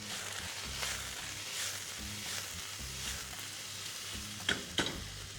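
Chicken and vegetables sizzle steadily in hot oil in a stir-fry pan, with a few sharper scrapes and stirring clicks near the end and no talking.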